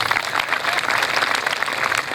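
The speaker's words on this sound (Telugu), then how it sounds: "చప్పట్లు కొట్టండి." Steady applause from a lecture audience at a Telugu Ram Katha discourse, dense continuous clapping filling the whole stretch at even loudness with no voices over it.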